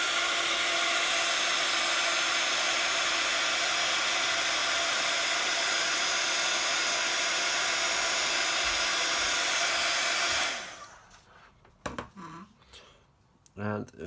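A heat tool blows a loud, steady whirring roar while setting water-based watercolour ink on a stamping craft background, then cuts off, leaving faint handling clicks and rustles.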